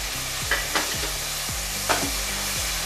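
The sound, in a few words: tomato puree frying with spice paste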